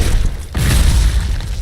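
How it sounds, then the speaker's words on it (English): Corpse explosion skill going off in Diablo III, a loud booming blast that drops briefly into a gap and then surges back as a rumbling, crackling burst in the game's soundscape. "Exploded him right off the screen."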